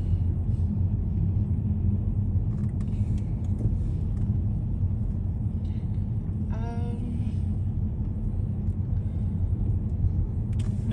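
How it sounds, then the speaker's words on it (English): Trucks roll through a residential neighborhood in East LA, a continuous low rumble close by, with a brief rising whine partway through. "There are a lot of trucks in this neighborhood."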